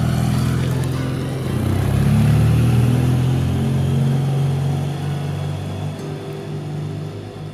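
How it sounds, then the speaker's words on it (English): BMW F800GS motorcycle engine climbing uphill on a road in Andalusia, southern Spain, a steady loud mid-pitched drone that swells slightly and eases off, close and continuous with no voices. "I then jump back on the BMW and continue to climb higher"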